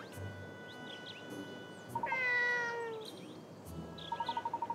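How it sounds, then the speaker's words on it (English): In the video game Layton's Mystery Journey, a cat lets out a long, wavering meow in the middle, with soft beeping tones and light ambient sounds around it. "That's the cat I was chasing."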